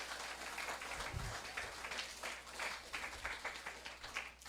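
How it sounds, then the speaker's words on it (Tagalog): A church congregation clapping during a Sunday service, a faint, steady patter of many hands applauding together at a distance, with a low hum underneath. "Pwede bang pumalakpak lahat ng solid sa Lord?"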